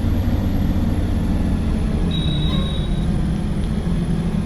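A bus idles nearby at 5 a.m., producing a steady, loud low engine rumble that holds constant throughout, with a faint thin whine riding above it and no talking.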